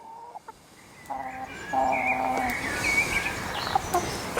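Newly introduced chickens cluck and squawk at close range while settling their pecking order, with short calls building into overlapping, louder clucking over steady background noise.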